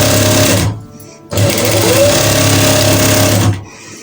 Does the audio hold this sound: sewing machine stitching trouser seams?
yes